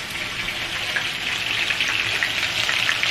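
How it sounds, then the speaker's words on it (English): Turkey necks browning in a hot pan give a steady, dense sizzle that stays loud and even throughout, with no voices. "So now I'm browning it."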